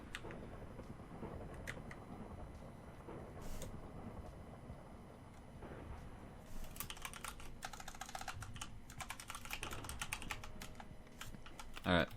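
Fast clattering keystrokes on a computer keyboard while typing a chat message in a game, bursts of rapid clicks growing busier in the second half, close and clear over a low background hum.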